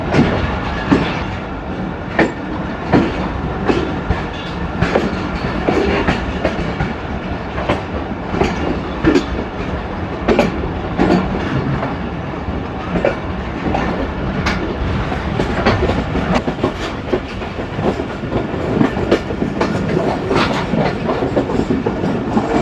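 A Pakistan Express passenger train rolls along the rails after leaving Rawalpindi railway station, with steady loud rumbling and repeated clickety-clack wheel beats across the track joints throughout, no voices.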